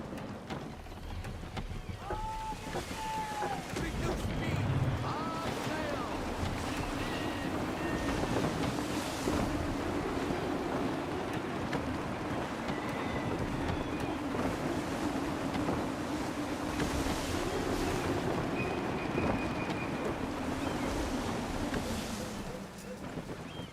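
Wind gusting and waves washing against a sailing ship in Assassin's Creed 3, a continuous loud rushing bed of wind and surf with creaks and brief tonal effects layered over it.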